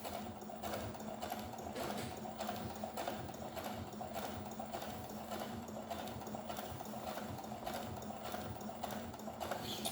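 A domestic sewing machine sews a straight twin-needle stitch at 3.5 length with needles 2 mm apart, giving a steady, fast rhythmic whirring and clatter that runs unbroken throughout, close and moderately loud.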